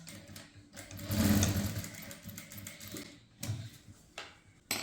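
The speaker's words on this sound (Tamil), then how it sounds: "மேலே வந்து இப்படி ஒரு 1/4 இன்ச்சுக்கு தையல் போடணும்." A sewing machine stitching fabric piping on a kurti top, with a close, rapid whirring stitch run that swells and then slows into short bursts and clicks.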